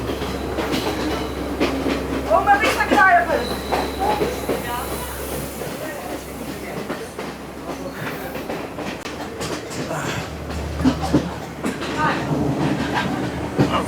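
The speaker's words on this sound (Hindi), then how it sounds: "A very very interesting, very exciting train journey." Riding the Ella Odyssey train in Sri Lanka: a continuous rumble with rhythmic clickety-clack of wheels on rails and occasional squeals, heard from inside the carriage with brief voices in the background.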